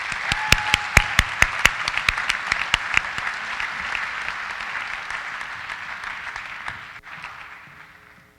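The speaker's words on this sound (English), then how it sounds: "Please give them one last round of applause." An audience at a high school academic awards night applauds, opening with a few sharp, loud individual claps over dense clapping that holds steady and then slowly thins and fades toward the end.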